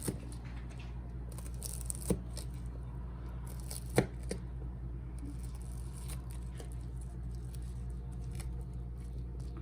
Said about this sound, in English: So I'm just gonna slice these up, maybe like an inch